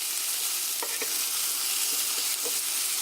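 Potatoes frying in oil until browned and crispy, giving a continuous close, even sizzle throughout with a few faint taps of a utensil against the pan, and no talking.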